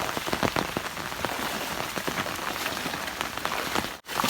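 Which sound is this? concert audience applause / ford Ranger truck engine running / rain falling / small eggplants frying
rain falling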